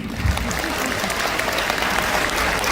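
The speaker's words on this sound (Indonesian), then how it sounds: "tepuk tangan untuk CFM Kediri ini" A seminar audience applauds steadily, dense clapping sustained throughout at a strong, even level.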